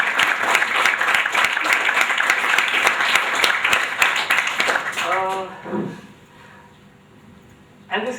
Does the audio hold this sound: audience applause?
yes